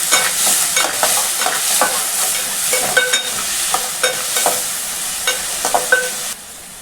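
Onions and curry leaves frying in a pan while a spoon stirs them, a steady sizzle broken by repeated scraping and clanking strokes, close and loud.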